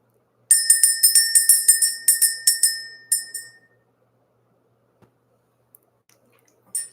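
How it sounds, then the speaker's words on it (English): A small bell is struck repeatedly in a quick run of bright, ringing strikes that are loud and close, then it stops and a few faint clicks follow in near silence. "We're going to go ahead and ring the bell."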